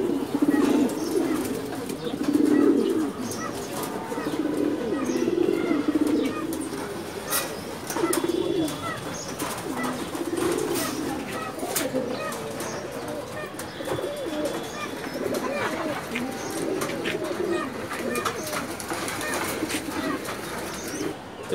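Pigeons coo steadily inside a loft, several birds overlapping in a continuous low murmur, with occasional wing flaps and faint chirps scattered through the background.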